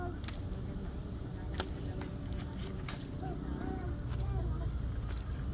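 A worn, rough tensioner bearing is spun by hand and gives off faint, irregular scraping clicks and ticks at close range, with a voice talking quietly underneath.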